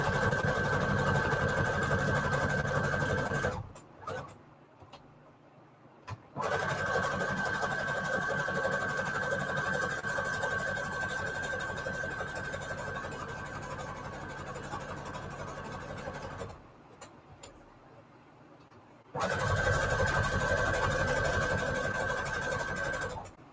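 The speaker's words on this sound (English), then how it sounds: "Lots and lots of zigzag stitch right here going on." A sewing machine stitches a zigzag on junk journal cards made from paper ephemera, humming steadily and close in long runs with two short pauses between bursts.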